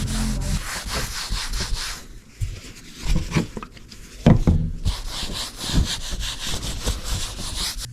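Rough back-and-forth scuffing rubs over the dashboard of a 1968 Pontiac LeMans ahead of a vinyl coating, loud close strokes that pause briefly midway with some knocks before resuming.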